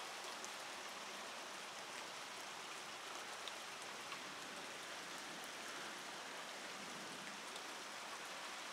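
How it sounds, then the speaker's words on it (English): Rain falls steadily, a dense even hiss of drops that stays constant throughout with no other sounds or voices. "Is it raining? Wow, minute. More raining."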